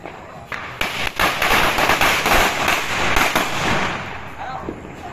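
A rapid string of firecrackers held in a man's hands crackles and pops loudly, bursts overlapping for several seconds with voices shouting underneath.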